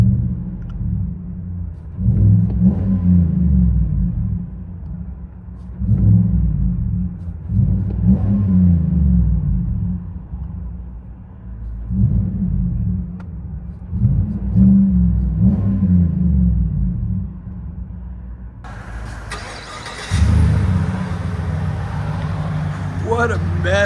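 2023 Chevy Silverado 2500HD with a 6.6L V8 and Black Widow Race Venom exhaust, heard from inside the cab: deep engine rumble rising in several repeated revs, with someone talking near the end.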